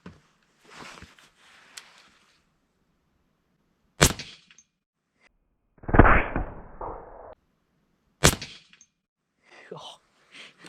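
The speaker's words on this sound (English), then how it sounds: "let's go take a shot with it before we head out hunting. Let's see what it'll do to this bottle here." A giant pump pellet gun fired at a bottle outdoors before a hunt: two sharp, loud single cracks several seconds apart, with a short clattering impact between them and quiet movement around them.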